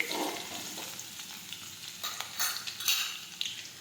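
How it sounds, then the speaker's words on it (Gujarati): Mustard seeds, cumin and crushed garlic sizzle and crackle in hot oil, a close, steady frying hiss broken by a few sharper pops and utensil clinks while a Gujarati tomato curry gets under way. "હવે આપણું તેલ છે તે ગરમ થઈ ગયું છે હવે આપણે તેમાં રાઈ અને જીરું નાખી દઈશું ખાંડેલું લસણ નાખીશું"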